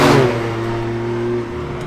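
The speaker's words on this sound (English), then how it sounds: "In a straight line, wheel spin, yeah, that's fine." Totem GT Super, a twin-turbo 670-hp V6 Alfa Romeo, accelerating hard in a straight line with wheel spin, a loud close engine note holding steady harmonic tones that ease off slightly near the end.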